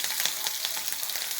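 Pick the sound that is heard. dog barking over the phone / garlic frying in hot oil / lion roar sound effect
garlic frying in hot oil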